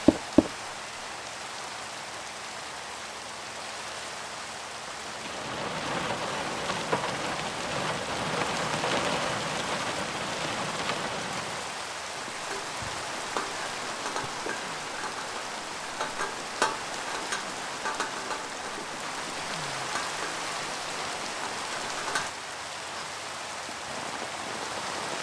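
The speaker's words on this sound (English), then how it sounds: "I'm going to go ahead and cause it to rain" Rain falls steadily on a house roof in Minecraft, heard from inside as a dense, continuous patter with scattered louder drops and a low rumble at times, no voices.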